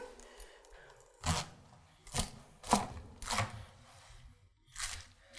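A Dragon Fire nakiri knife push-cutting vegetables for stock on a cutting board, five distinct firm chops spaced about a second apart, close and clear against a quiet background.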